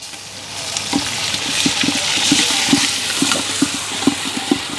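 Onions and green chillies fry in a pan for a prawn biryani, a continuous close sizzle broken by repeated soft stirring scrapes and knocks at a loose, irregular rhythm.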